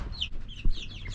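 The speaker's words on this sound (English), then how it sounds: "Orlando built a little chicken coop inside the big chicken coop for the babies." Baby chickens cluck and peep inside a small coop built within a larger chicken coop, several short chirps in quick succession, close and moderately loud.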